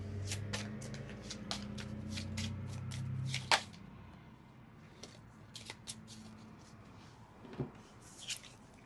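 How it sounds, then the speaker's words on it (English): Dark Mirror Oracle cards being shuffled by hand, a quiet series of soft riffling slaps and sharp clicks at an uneven rhythm, heard close up and alone. "I'm going to use my Dark Mirror Oracle cards."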